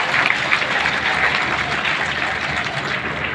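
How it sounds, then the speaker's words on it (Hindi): Audience at a hospital charity event breaks into a strong, sustained burst of clapping, dense and fairly close, with no clear speech over it. "जोरदार ताली बजाइए भाई साहब"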